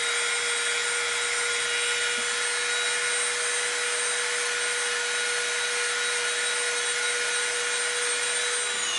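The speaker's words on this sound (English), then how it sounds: "we'll come in with the Dremel and we'll get that wood or the glue residue off of there" A Dremel rotary tool grinds wood and glue residue off a 4mm dowel piece in an EVA foam craft build, a steady high-pitched whine running continuously and close-up with no pauses and no talking.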